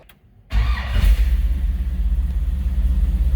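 A 1955 GMC 100 pickup street rod fires up and settles into a fast idle around 1100 RPM, a loud, close, lumpy low rumble with a brief rev at the start.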